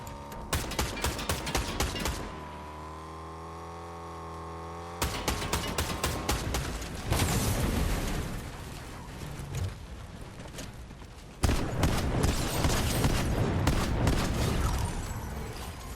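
Rapid bursts of assault rifle fire crackle in a Fortnite match, loud and close, with repeated volleys separated by short pauses, a sustained engine-like hum partway through, and busy game effects throughout.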